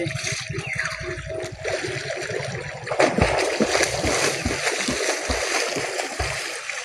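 Pond water splashes and sloshes steadily as someone bathes, a close, continuous churning with irregular thumps and slaps in the water.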